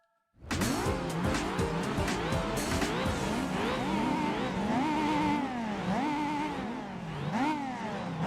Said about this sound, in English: We're going to start spinning our wheels.